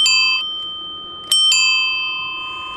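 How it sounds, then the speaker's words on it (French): A bicycle bell rings on a path to warn pedestrians walking ahead: one clear ding fading out, then two quick bright rings close together, loud and near with no talking. "vous leur donnez un coup de sonnette"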